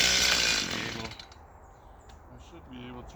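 A small Stihl MS-170 chainsaw cuts into a tree during felling, its high buzzing whine loud and close for about a second before dropping to a quieter idle.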